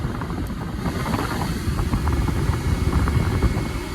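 XCMG or Caterpillar excavator engine revving up at high power, a steady loud low rumble with turbo whine and roar held throughout, no talk.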